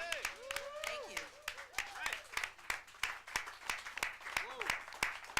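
Scattered hand claps ring out in a living room during a swinging celebrity Valentine's Day show, sharp and fairly close, mixed with a speaking voice throughout.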